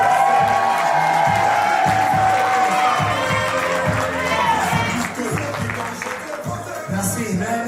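Wedding guests at a civil ceremony in a town hall cheer, whoop and applaud the couple, a loud sustained crowd roar with clapping that eases slightly toward the end.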